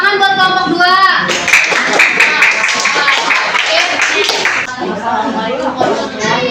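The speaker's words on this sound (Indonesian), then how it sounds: "Tepuk tangan buat kelompok 2" Children in a classroom clap for a student group, a dense burst of hand claps with overlapping young voices and chatter throughout, fairly close and loud.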